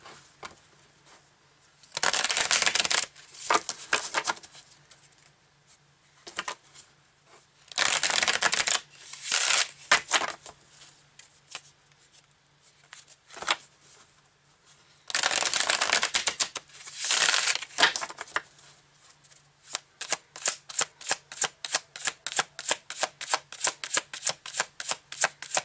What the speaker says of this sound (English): let's take some more cards out here